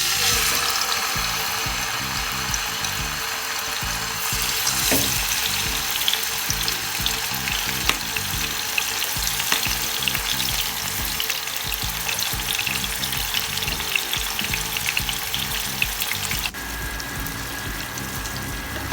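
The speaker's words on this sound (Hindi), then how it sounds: "चिकन के तमाम पीसेस मैंने इसमें डाल दिए हैं फ्राई पैन में" Chicken tikka pieces fry steadily in hot oil in a frying pan, a loud continuous close-up sizzle with faint crackles and a short shift in tone near the end.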